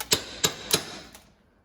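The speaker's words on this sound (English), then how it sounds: "smack it off the vise a few times" A metal part from a Foxbody 8.8 rear axle being smacked against a bench vise: three sharp metallic cracks about a third of a second apart, then a fourth fainter knock as it breaks free, close and loud.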